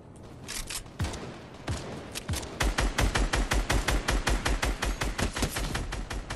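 Video game gunfire opens with a few scattered single shots, then breaks into a fast, steady automatic burst of sharp cracks that runs for several seconds, close and loud, with no voices.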